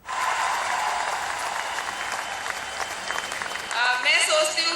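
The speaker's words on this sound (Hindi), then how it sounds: "तालियों की गड़गड़ाहट है" Sustained applause fills a ceremony where Olympic athletes are honoured by the Chief Minister, a dense steady clapping crowd throughout with brighter, sharper claps swelling near the end.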